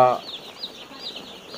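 Day-old broiler chicks in a brooder, a dense layer of high, continuous peeping from many chicks close by, briefly overlapped at the start by a voice.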